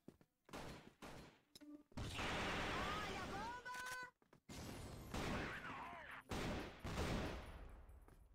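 Rapid bursts of automatic AK-47 rifle fire in the online shooter CrossFire crackle in repeated volleys, loud and close, with brief gaps and whistling ricochet-like tones between shots, under a player's continuous talk.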